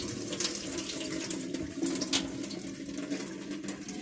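Soaking water from lentils being poured out into a sink, a steady splashing stream for several seconds, moderately close, with faint bird chirps in the background.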